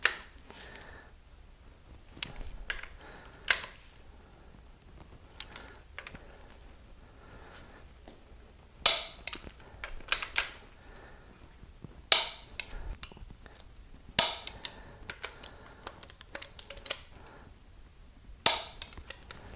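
Sharp metallic clicks and taps from a wrench snugging bolts on an Oldsmobile 455 engine toward 50 foot-pounds, occurring in scattered short bursts separated by quiet pauses.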